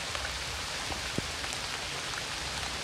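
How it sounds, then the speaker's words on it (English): Heavy tropical rain pours down steadily at a bamboo cabin build site, a dense, even hiss of drops striking surfaces, with no voices. "A sudden tropical downpour halts the build."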